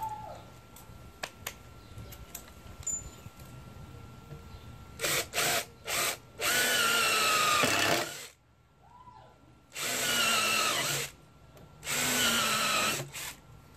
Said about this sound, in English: So I'm actually drilling up at an angle.